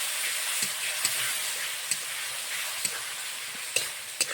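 Spice paste of ginger, cumin and cardamom with turmeric and salt frying in a pan: a soft continuous sizzle broken by regular faint clinks and scrapes of stirring, no talk.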